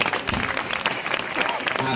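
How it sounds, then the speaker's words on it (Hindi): An audience at a spiritual gathering claps loudly and steadily to welcome a guest, the dense applause continuing throughout with a voice faintly mixed in. "जोरदार ताली बजाकर"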